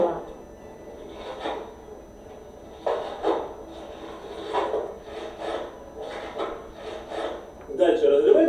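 Pomelo skin being pulled and torn from the fruit in a kitchen, giving repeated rasping, rubbing rips in short bursts with pauses between, ending in a louder tearing stretch, close by.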